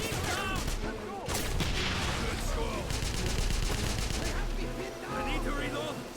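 Heavy sustained gunfire in the video game Wolfenstein (2009), a loud fusillade of automatic shots with booming impacts and battle chatter from game characters mixed in.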